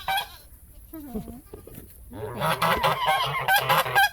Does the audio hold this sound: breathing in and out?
no